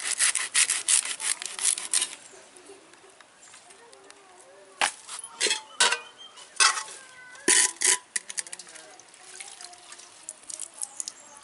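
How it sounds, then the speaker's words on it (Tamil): Knife cutting the root ends off a bunch of amaranth greens (thandu keerai) on a board, giving scattered crisp slicing and rubbing sounds in short bursts, near and fairly clear, with pauses between cuts and no talk over them. "இந்த மாதிரி வந்து கட்டோடு வச்சு நம்ம வந்து வேர் பகுதி மட்டும் கட் பண்ணிடலாம்"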